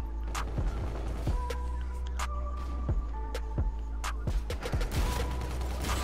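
Gunfire in a Gun Game match of Call of Duty: Infinite Warfare, sharp scattered shots and short bursts popping at irregular intervals over a low steady game hum, some near and some farther off.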